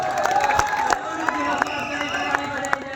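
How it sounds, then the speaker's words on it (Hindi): Spectators at a wrestling bout clap in sparse, irregular beats amid a steady crowd murmur, with distant voices and occasional sharper claps standing out over the background noise. "दर्शकों से अनुरोध करते हैं कि पहलवानों की हौसला अफजाई में जोरदार तालियां बजाई जाए"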